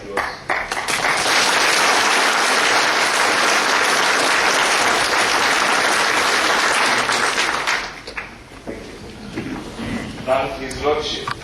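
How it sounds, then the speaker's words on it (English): Loud audience applause at an auctioneers' gathering in Kenya swells into sustained clapping for several seconds, then fades out as voices take over near the end. "And a round of very serious applause."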